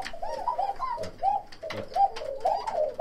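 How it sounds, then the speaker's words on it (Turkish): Several Sivas turtle doves coo repeatedly in a coop, close by, their soft rolling calls coming in a steady series of short phrases with faint rustling between them. "Bunlar Sivas kumrusu, bak. Bakın arkadaşlar ne güzel ötüyor."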